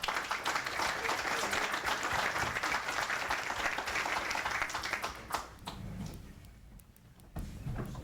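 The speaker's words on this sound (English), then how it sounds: "please give them a round of applause" Audience applause for a conference panel on unmanned vehicles in peacebuilding and stability operations: dense, sustained clapping for about five seconds, then thinning and dying away.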